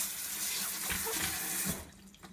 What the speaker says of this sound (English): First, you're going to take your cabbage and wash it.